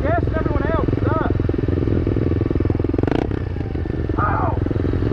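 SSR125 pit bike engine idling and revving close by, a continuous rough mechanical drone with voices shouting over it.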